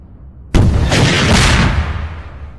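A big weapon detonates in the space game Eve Online: one sudden, loud, booming explosion hits after a short quiet lead-in, then rumbles and slowly fades away.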